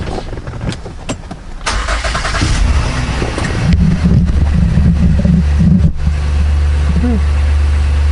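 A 2017 Honda Pilot's engine cranks and catches after catalytic converter replacement, then settles into a steady, close idle, with rattling and clicks early on.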